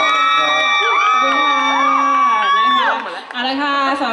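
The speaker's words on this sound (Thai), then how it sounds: "ขอเสียงปรบมือให้ทั้งสองท่านอีกครั้ง" Loud cheering and shrieking from a fan audience at a Thai singer's event, high excited voices whooping and squealing continuously, dipping briefly near the end before swelling again, with little distinct clapping.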